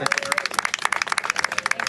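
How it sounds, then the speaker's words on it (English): A short burst of brisk applause for Congresswoman Lucy McBath at a political gathering, many hands clapping densely and steadily for under two seconds with voices mixed in. "Let's give her a round of applause"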